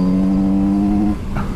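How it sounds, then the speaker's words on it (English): A Kawasaki Z900 RS motorcycle engine gives a loud, steady, close-up harmonic drone that cuts off sharply partway through and leaves quieter wind and road noise. "The engine's so sporty sounding, it does make you want to open it up a little bit"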